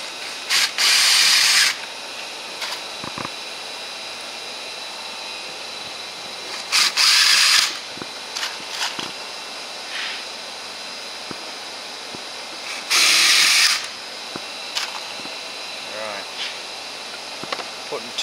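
A power drill drives screws into wooden planks, several screws per plank, in three loud bursts of about a second each, with quieter workshop noise and scattered knocks between them.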